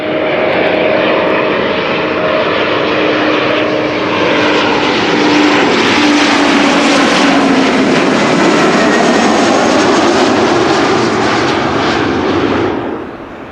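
Boeing 747 jet passing by at Amsterdam Schiphol Airport near the Kaagbaan runway, a loud, steady roar that swells toward the middle and holds before cutting off near the end, heard alone.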